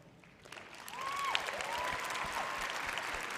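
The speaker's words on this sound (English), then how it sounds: "let's give a big round of applause to our selection committee panel" An audience at the 2019 Miss Teen USA final competition at the Grand Sierra Resort breaks into applause, a swelling, steady wash of clapping with faint cheers and whistles over a brief musical tone.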